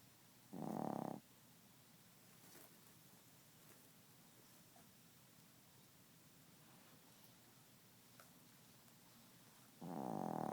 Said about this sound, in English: Hey, you're snoring. I can't sleep.